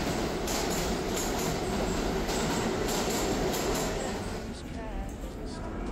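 A New York City subway train rumbles loudly and steadily through the whole stretch, with rail noise and faint clatter, easing slightly near the end; no voices stand out.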